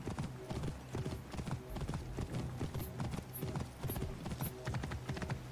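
Horse hooves clip-clop steadily in Assassin's Creed Origins, a quick, even rhythm of hard knocks at walking pace with faint high ticks overhead, quiet overall.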